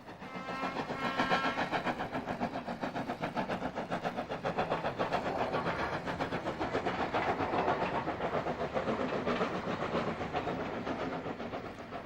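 Steam locomotive Met number 1 crossing the Grand Union Canal at Watford, a continuous rhythmic rumble with fast repeating chuffs and rolling wheel clatter, fairly loud and steady throughout with no voices.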